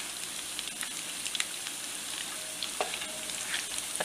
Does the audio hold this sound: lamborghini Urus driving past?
no